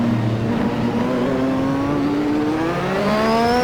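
A Lotus 98T Formula One car's turbocharged engine accelerates in the Assetto Corsa racing game at Adelaide, a loud, steady high-revving drone whose pitch climbs smoothly, with no talk over it.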